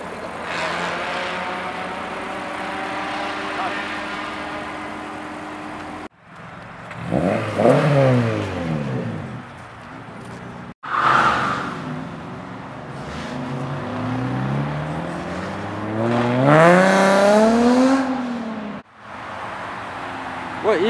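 Dodge Dart car engine revving hard at a street takeover, several loud rising and falling revs with pauses between them, close by and aggressive.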